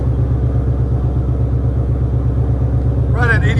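Ford Mustang GT 5.0L V8 with an H-pipe and Flowmaster Outlaw exhaust idling close by, a loud steady burbling rumble with an even pulsing beat, and a person briefly speaking over it near the end.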